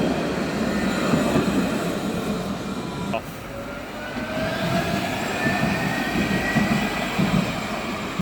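Tram 232 arriving at Nottingham, running loud and close on rails bound for Clifton South, with a steady rumble, wheel squeal and rising whine over its whole length.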